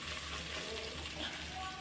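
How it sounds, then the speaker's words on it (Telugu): Ingredients for a bottle-gourd yogurt curry fry in a pan while being stirred, a soft continuous sizzle with faint scraping, fairly quiet and steady with no talking. "కలుపుతూ ఫ్రై చేసుకోండి."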